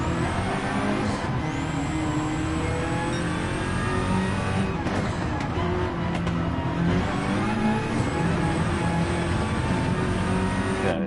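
Race cars on a track roar steadily at full throttle, and engines pass close by with rising and falling pitch sweeps over dense, loud mechanical noise with no let-up.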